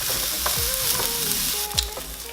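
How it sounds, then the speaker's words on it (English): Red onion frying in a little avocado oil in a pan for jackfruit tacos, a dense, even close sizzle with faint soft stirring touches throughout. "So I'm adding some red onion."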